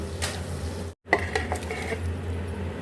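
Boiled goat head meat is dropped into a pot and fried, giving a steady sizzle with clinks and stirring clatter of utensils, briefly cut by a silent gap.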